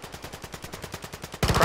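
Rapid automatic gunfire in Call of Duty Modern Warfare 2, a steady fast string of shots at moderate distance that gives way to a sudden louder, denser burst at the end.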